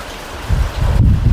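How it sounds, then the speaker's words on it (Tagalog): Heavy rain hisses steadily while strong wind buffets the microphone in loud low rumbling gusts. "Hindi lang ulan, pati hangin malakas din."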